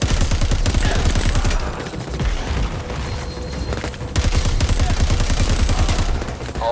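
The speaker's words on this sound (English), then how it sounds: "Homing rockets track their targets. Just lock on and fire." Homing rocket fire in the video game Crackdown 3, a dense barrage of rapid explosive launches and booms, loud and continuous with a brief lull midway before the volley resumes.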